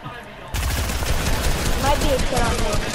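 Sudden loud gunfire in the video game Fortnite erupts after a quieter half second, a dense rattling barrage of rapid shots that keeps up to the end.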